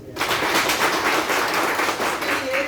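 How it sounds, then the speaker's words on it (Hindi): A crowd breaks into dense, sustained applause, many hands clapping at once, loud and steady for a few seconds. "जोरदार ताली।"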